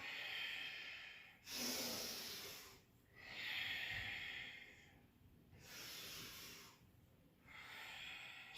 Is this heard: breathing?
yes